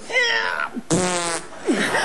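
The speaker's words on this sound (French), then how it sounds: "J'ai pété car j'ai mangé des gaz." Comedic fart sound effect from a French sketch, a single buzzy blast about half a second long standing alone between short stretches of talk.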